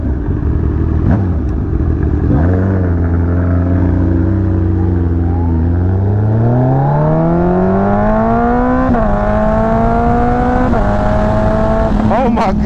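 Kawasaki ZX14R motorcycle with a Pingel electronic quick shifter accelerating hard, its loud engine note climbing steadily through several gears with brief, crisp breaks at each rapid upshift.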